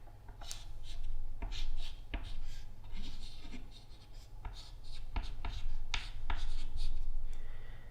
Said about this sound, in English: I've got to write what each of these beers are on the little chalkboard.